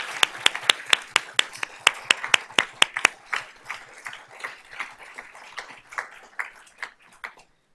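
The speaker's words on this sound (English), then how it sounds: "So let's give these ladies a round of applause." Applause at a school district board of trustees meeting honouring a group of female students: brisk, closely spaced hand claps that gradually slow and soften, from a small crowd heard fairly close with no talking.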